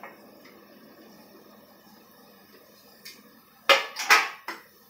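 Tomatoes go into a pan of fried onions while cooking mutter paneer: a soft, steady sizzle gives way to a few loud, close bursts of clatter and hissing near the end.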